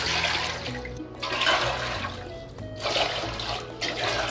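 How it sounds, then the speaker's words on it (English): Twelve cups of water are poured into a pot for dandelion wine, a continuous gurgling splash with surging pulses as more water goes in, close and fairly loud. "next we are going to add 12 cups of water."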